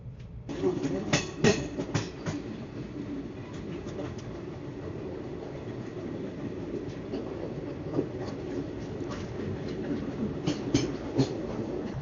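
Steady rumbling of a train rolling along rails, heard from inside a chair-car coach between Gazole and Bolpur, with repeated clacks and rattles from the carriage throughout, moderately loud and continuous.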